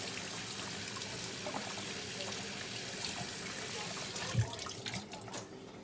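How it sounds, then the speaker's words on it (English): Tap water runs steadily while hands are washed under it at a kitchen sink during baking, a continuous wash of splashing that swells briefly near the end. "before we put it on the pan, I'm going to wash my hands"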